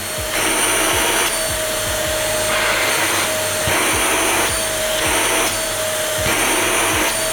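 A Kurumi KV05 vacuum cleaner runs on full-suction turbo mode, loud and steady with a strong whooshing suction roar, accompanied by a faint high motor whine and periodic low thumps.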